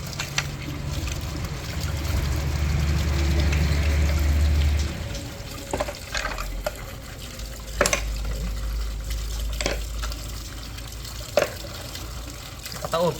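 Water runs and splashes while lokan clams are rinsed, a steady wash with intermittent clinks and knocks of shells, a voice speaking briefly over it.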